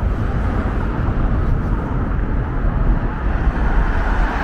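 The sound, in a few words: rumble of planes over runway heard in tunnel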